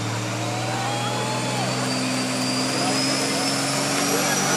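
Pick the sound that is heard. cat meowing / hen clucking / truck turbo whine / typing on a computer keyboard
truck turbo whine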